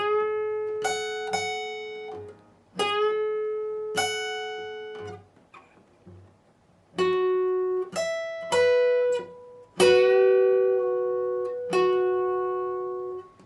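Slow electric guitar lead lines from a solo: separate picked notes and short phrases with gaps between them, some notes held and ringing, played alone and close.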